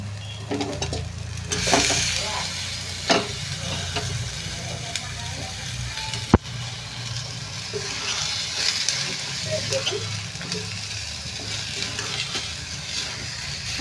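Cluster beans fry in masala in a pan, stirred with a spoon that scrapes and knocks against the metal over a low sizzle, with one sharp clank partway through.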